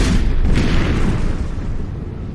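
Heavy mortar or cannon blasts in Final Fantasy XIV, a loud, dense low rumble of booming explosions running continuously and slowly fading, with no voices.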